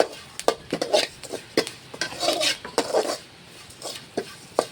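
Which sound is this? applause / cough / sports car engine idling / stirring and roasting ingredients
stirring and roasting ingredients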